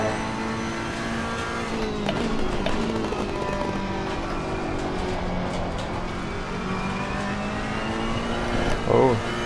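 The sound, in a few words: Ferrari 488 GT3 race car engine in video game ACC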